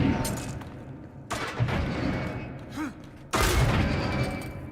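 Gunfire in a video game about fighting skeletons: two heavy, loud bursts of shots land a couple of seconds apart, with game ambience and a brief vocal sound between them.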